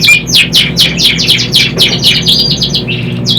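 A bird sings a rapid, bright series of chirps and trills close by, continuous and loud over a low background hum.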